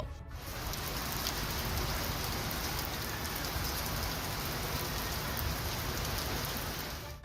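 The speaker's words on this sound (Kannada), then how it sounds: "ಕಾರವಾರ ಕುಮಟಾ ತಾಲೂಕಿನಾದ್ಯಂತ ಮಳೆರಾಯ ಆರ್ಭಟಿಸಿದ್ದಾನೆ" Heavy rain pours down steadily across Karwar and Kumta in coastal Karnataka. It makes a loud, unbroken roar and hiss of water striking surfaces, with no voices or breaks.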